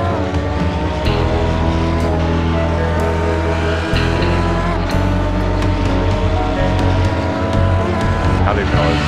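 A GT3 race car circles the Nordschleife in a racing simulator, its engine roaring loud and constant with gear shifts and brief tire squeal, while a commentator talks over it.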